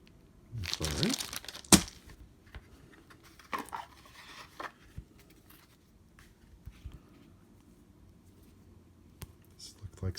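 Plastic packaging around board game tiles crinkles and tears in a loud burst up close, followed by sparser rustles, small cracks and handling noises, with a person talking at times.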